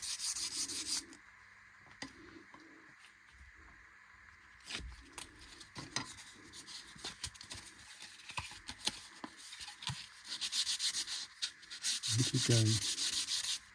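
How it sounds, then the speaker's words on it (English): Hand sanding of a wooden bowed psaltery bow with sandpaper, with soft rhythmic rubbing strokes that come and go through the stretch, fairly close, and a short spoken remark partway through. "So each one smooths the wood slightly more."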